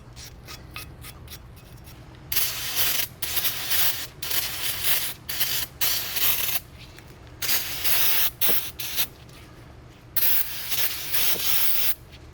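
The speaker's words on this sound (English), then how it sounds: "with a little bit of brake clean, just so we know our new pads are going to ride nicely on here" Brake cleaner sprayed onto brake parts of a BMW F25 X3 during a front pad and rotor job, a series of short and longer loud hissing aerosol bursts separated by brief pauses, close up.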